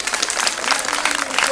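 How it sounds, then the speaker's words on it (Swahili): Audience applause fills the space, a dense continuous wash of clapping at close range, steady and loud for the whole stretch. "Makofi."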